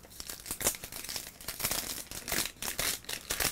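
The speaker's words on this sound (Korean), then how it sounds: "비닐 찢어버리겠습니다." Plastic vinyl wrapping is torn and crinkled off a boxed NES game, a series of close, loud crackling rips and crumples in irregular bursts.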